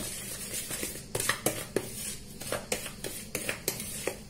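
Garlic flakes stirred into seasoned breadcrumbs in a bowl give a series of light, close scraping and clinking taps of utensil against the bowl, in an irregular rhythm with no speech.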